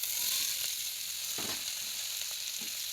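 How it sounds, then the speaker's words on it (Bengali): Chopped garlic fries in oil alongside whole spices for a chicken dish, a constant bright sizzle broken by a few short spatula scrapes, close and steady without speech. "দিয়ে দিলাম রসুন কুচি। আবারও একবার ভালোভাবে নাড়াচাড়া করে ভাজা হয়ে গেলে"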